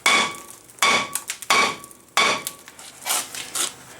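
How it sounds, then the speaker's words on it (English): A hammer slams repeatedly against a stuck brake rotor on a Dodge Dakota, four heavy metallic blows spaced under a second apart, followed by a few lighter, quicker knocks, all close and loud. "we're just going to hit with a hammer"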